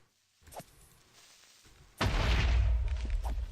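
A creeper blows up in modded Minecraft: after faint scattered game noises, a loud sudden boom hits and rumbles on for over a second with a deep, roaring tail.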